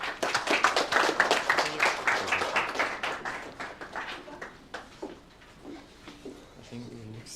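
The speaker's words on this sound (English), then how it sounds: "Round of applause" Audience in a pitch room at an innovation competition gives a round of applause, a burst of clapping that starts strong and thins out into scattered claps, with voices murmuring underneath toward the end.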